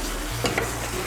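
Masala paste being stir-fried for soybean kosha, a steady close sizzle with a few scraping strokes of a spatula in the pan, no voices.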